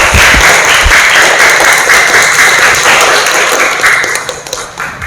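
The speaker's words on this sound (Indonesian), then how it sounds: "Ayo silakan, tepuk tangan dulu." Students in a classroom clap together in steady, dense applause that runs loud and continuous throughout, thinning slightly near the end.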